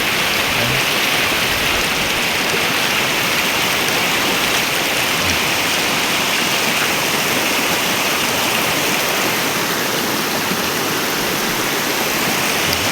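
Steady rushing mountain stream water flows continuously, a dense broadband wash like a fast stream or small cascade, loud and close with no voices.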